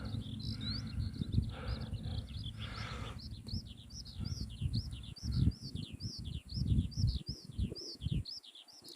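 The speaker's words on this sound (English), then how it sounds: "You guys hear the little bird?" A small bird in a quiet desert in Mui Ne, Vietnam, chirps in quick repeated bursts, faint but clear against soft rustling and low background noise, with no talk.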